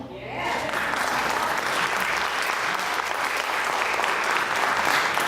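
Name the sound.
audience applause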